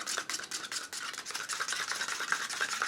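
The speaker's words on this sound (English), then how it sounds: "So take a palette knife, okay, and see it all in there? See? Mix it all up." A palette knife stirs and scrapes acrylic paint being mixed into black, making soft, quick, repeated swishing and smearing strokes, quiet and close, with no voices.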